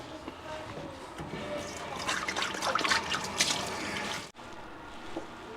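Water splashes and runs while a scraped coconut shell is washed clean in a kitchen, a continuous close trickling and sloshing that swells briefly, then cuts off abruptly, leaving faint quiet afterward.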